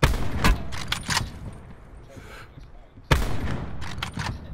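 Sharp, loud shots from sniper rifles and shotguns in a video game, a few isolated cracks early on then another cluster of rapid blasts, with voices talking in between.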